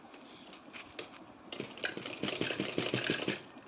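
A sewing machine stitches a kurti collar, starting with a few soft isolated clicks and then running into a quick, rhythmic mechanical chatter up close before slowing at the end.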